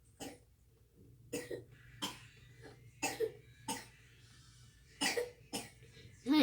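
Several sharp coughs in separate bursts, some in quick pairs, close by, with quiet pauses between and a low steady hum underneath, from the video game 99 Nights in the Forest.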